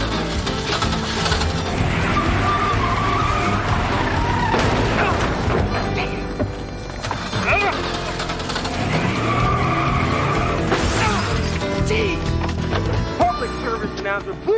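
A car skids on a road in a TV drama scene, with a loud tire screech and engine noise mixed with other busy action sounds, continuing for several seconds.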